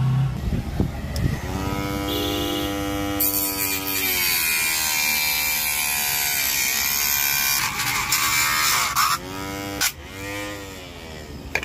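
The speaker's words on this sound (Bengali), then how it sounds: "এই পাইপটা কাটার জন্য আমি এই 775 মোটর দিয়ে বানানো এই কাটিং মেশিনটা ব্যবহার করব" A homemade cutting machine driven by a 775 motor slicing through a pipe, loud close whine that rises and falls in pitch as the blade bites and frees, with grinding rasp throughout and brief pauses near the end.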